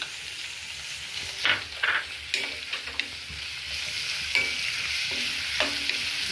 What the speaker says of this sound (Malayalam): വെളുത്തുള്ളി ചെറിയ ഉള്ളി പച്ചമുളക് ഇഞ്ചി ചതച്ചത് ഇടാം